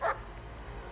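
A single sharp dog bark from a movie scene, loud and brief at the very start, then fading into a low steady rumble of film soundtrack.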